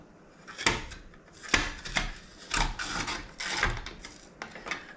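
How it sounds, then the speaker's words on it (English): Sweet potatoes being sliced on a grater bought online, heard as several close, uneven scraping strokes with dull knocks, each rasp separate and no talking. "I am going to try to do my sweet potato slices with this."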